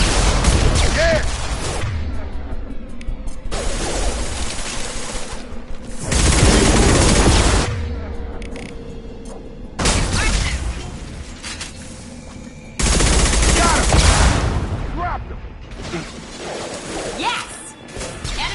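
Bursts of gunfire and heavy shotgun blasts from the Mass Effect video game come in loud repeated volleys, with people talking and cheering over the combat.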